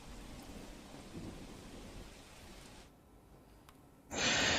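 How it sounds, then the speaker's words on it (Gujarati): Steady night rain in Valsad hisses with a low rumble of thunder underneath, fading slightly before a sudden louder burst of downpour at the end. "ધરમપુરમાં ચાર કલાકમાં ત્રણ ઇંચ વરસાદ ખાબક્યો છે"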